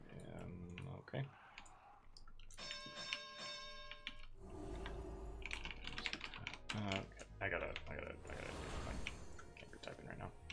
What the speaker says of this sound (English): I can't be typing right now.